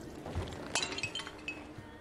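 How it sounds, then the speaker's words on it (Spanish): A bowl breaking in The Witcher 3, heard as a sharp clinking crack with a few small ringing, glassy fragments scattering just after, fairly close and without talk. "Rompe el cuenco."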